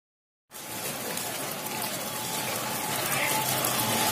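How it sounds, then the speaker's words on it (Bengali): Heavy rain pours onto a street, a dense, steady roar that starts abruptly and stays loud and close throughout. "তো রাস্তার মধ্যে কি হারে বৃষ্টি পড়ছে"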